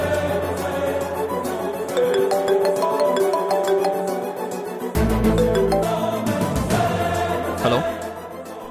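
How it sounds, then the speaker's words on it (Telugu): A phone ringtone plays a melodic electronic tune for an incoming call, loud and close in an indoor setting. A brief abrupt change partway through hints at a drama soundtrack mixed in. "అర్జెంట్ ఫోన్ అనుకుంటా."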